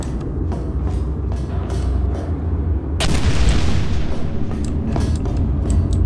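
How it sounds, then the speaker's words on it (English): Repeated heavy booms of bomb explosions in Portal 2, loud and rumbling, with a sharp bigger blast partway through and more distant thuds following. "There's bomb exploding sounds now."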